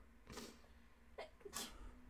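Two quick sneezes, the second sharper and louder, with a faint steady hum in the background.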